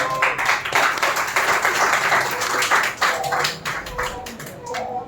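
Sustained applause from a crowd at an International Women's Day ceremony, dense steady clapping lasting several seconds with some voices mixed in.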